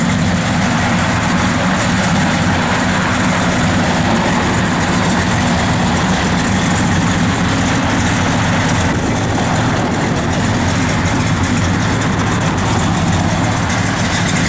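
A 1968 Chevrolet Chevelle SS, a numbers-matching 138 Super Sport with a 4-speed, idles steadily with a deep, rumbling low-end drone that holds an even, continuous tone throughout.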